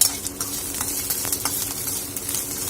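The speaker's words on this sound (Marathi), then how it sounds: "त्यावर थोडंसं तेल घालून आपण परतून घेणार आहोत त्याला सोबतच आपल्याला लसूण पण परतून घ्यायचं आहे" Green chillies and garlic sauté in oil with a light sizzle under repeated scraping and stirring strokes, close and moderately loud, with occasional metallic clinks.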